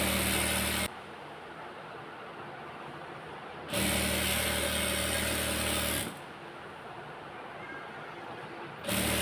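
A sewing machine stitches a georgette dress with falls, running in loud mechanical bursts: a brief whir at the start, a longer run mid-way and another starting at the end, with quieter gaps between.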